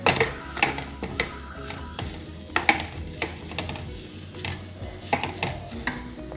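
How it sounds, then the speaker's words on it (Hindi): Mawa for gujiya is stirred and roasted in a pan, a soft, even sizzle broken by repeated scraping strokes and knocks of the spoon against the pan, fairly quiet and close. "अब हमारा मावा भुन गया है, अच्छे से भुन गया है।"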